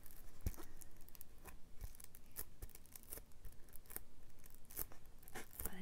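A fingertip rubs across an ultra-thin, foil-like texture page in a touch-and-feel book, giving close, quiet crinkly scratches in irregular bursts with no talking.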